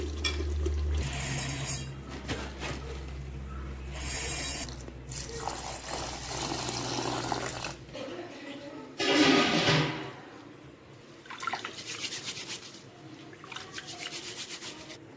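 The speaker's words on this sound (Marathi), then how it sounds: "तोपर्यंत आपण तांदूळ स्वच्छ धुवून घेऊया" Rice grains are rubbed and swished in water, with wet scrubbing sounds, splashes and a running tap, in several bursts close by.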